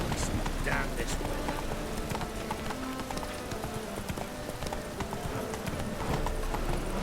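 Horse hooves clip-clop at a gallop in The Witcher 3 video game, a steady rapid beat running the whole stretch beneath game ambience, with a voice speaking over it.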